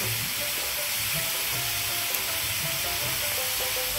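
Bay leaf, ash gourd and fenugreek seeds crackling in hot oil as a tempering, a steady close sizzle and frying hiss with small pops, no talking.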